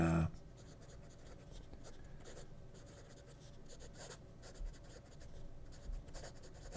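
Diplomat fountain pen with a steel nib gliding over paper, soft continuous scratchy strokes at close range, quiet and without talk.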